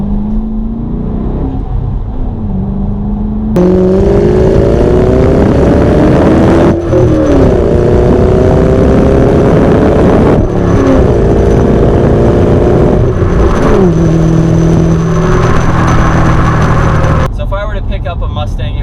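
A 2007 Ford Mustang Saleen with a 4.6 liter V8 accelerates through several gears, its exhaust rumbling loudly with rising revs, shift breaks and a deep drone, while a voice talks over it.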